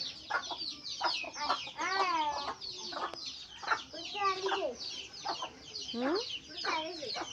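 A mother hen and her chicks at home give close, repeated clucks and rising chirps in an irregular stream, at moderate loudness throughout.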